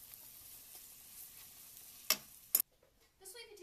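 Garlic and cooked sweet potatoes sizzle quietly in garlic butter in a pan, a low steady frying hiss with two brief sharp clatters of stirring before the sizzle drops away.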